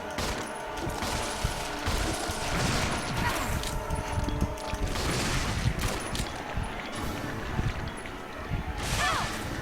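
Dense, continuous gunfire from the video game Resident Evil Zero, a steady barrage of rapid shots mixed with game sounds and a voice talking over it.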